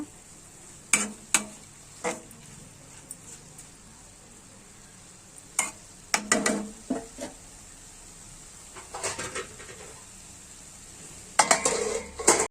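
A utensil scrapes and clinks against a metal pot while salted drumstick leaves are stirred, then a lid is set down, giving sharp, separate metallic knocks and clatters over a faint, steady sizzle in a quiet kitchen.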